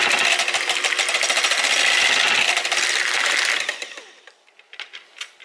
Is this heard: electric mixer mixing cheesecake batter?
yes